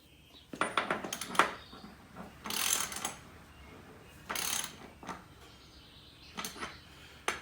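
A hand ratchet snugs bolts on a Farmall C tractor, with quiet clicking bursts and metallic clinks coming in irregular spurts, close but faint, without speech.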